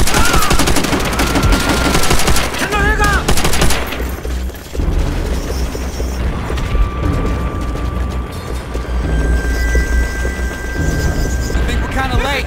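Dense battle gunfire from the Call of Duty: World at War video game, with sustained machine-gun bursts and rifle fire layered with booms and explosions, loud and continuous throughout.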